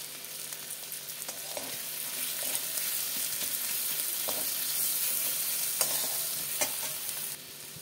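Spices, chopped tomato and turmeric sizzle steadily in a hot pan, a continuous frying hiss with occasional stirring scrapes and clicks, close and without talk.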